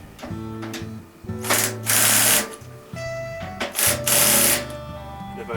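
A power driver whirs in short bursts, speeding up and slowing down as it drives a metal screw into a plastic fitting on a clothes washer, close and loud.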